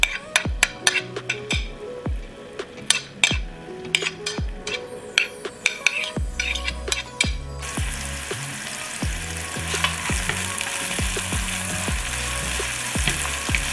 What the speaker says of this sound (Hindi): ऑयल गर्म हो चुका है, अब इसमें मैं डाल रही हूँ थोड़ी सी प्याज।